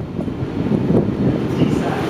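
A London Underground train riding uptown toward Seven Sisters gives a steady, loud rumble and rushing roar throughout, with faint rattles over the continuous noise.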